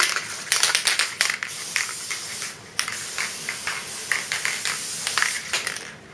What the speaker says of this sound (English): I'm just going to give it a light spray